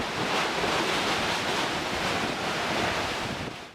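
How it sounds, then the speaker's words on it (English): Cyclone Tauktae drives heavy waves against the seafront at the Gateway of India in Mumbai, a continuous loud roar of crashing surf mixed with strong wind buffeting the microphone and no voices. "Strong waves crashed into Mumbai's Gateway of India monument on Monday as Cyclone Tauktae made landfall on India's west coast."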